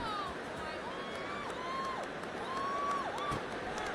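Stadium crowd noise from EA Sports College Football 26, a steady murmuring roar with scattered whistles and whoops rising over it, heard at a distance.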